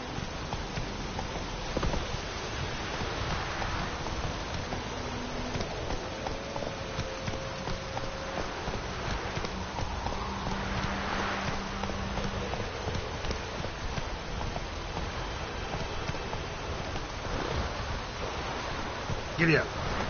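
Horse hooves clip-clop at a steady walking rhythm in a PS4 video game, moderately loud throughout, mixed with game ambience and occasional tonal music cues while a person talks over it.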